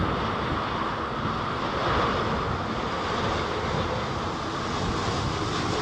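An airliner landing at London Heathrow during Storm Isha gives a continuous, loud engine roar, heavily buffeted by gusting wind noise throughout.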